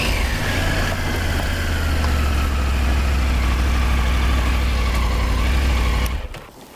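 A Triumph adventure motorcycle engine runs at a steady, loud idle close by, a continuous low rumble with a faint whine that fades out near the end.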